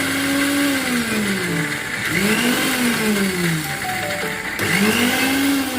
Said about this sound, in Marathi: आता आपण ह्या मिक्सरवर वाटून घेतो